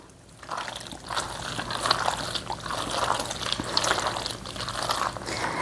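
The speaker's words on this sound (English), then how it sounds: "I'm only going to go half of the evaporated milk until I see if I need some more." Evaporated milk pouring steadily into a dish for baked macaroni and cheese, a soft continuous liquid stream heard close up with no talking.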